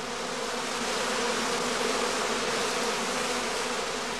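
A honey bee swarm cluster of after-swarm casts drones in a dense, continuous buzz, steady and fairly loud throughout with no pauses.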